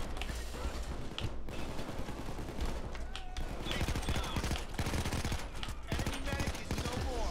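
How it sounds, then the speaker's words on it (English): Dense, continuous gunfire with bursts and heavy blasts from a grenade launcher in the heist shooter Payday 2, loud and layered throughout with a faint voice underneath. "killing him with the grenade launcher"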